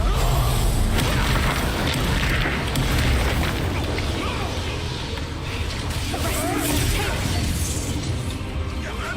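In Hogwarts Legacy, the Confringo fire spell bursts with a dense, rumbling boom and whooshing blasts, loud and sustained amid busy game combat sounds.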